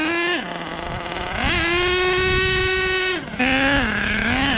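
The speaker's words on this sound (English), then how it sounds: "It's got some power, but of course it's running really rich right now." A HPI Savage XL nitro RC truck's K5.9 engine, running very rich, buzzes loudly, dropping low, then climbing to a high steady whine before briefly cutting and revving again.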